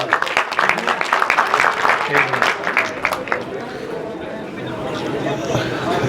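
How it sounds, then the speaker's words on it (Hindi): An audience at a felicitation ceremony for a Haryanvi folk singer and film actor breaks into dense, steady applause that swells and then thins, with chatter and voices talking over it. "एक बार तालियां बजाकर।"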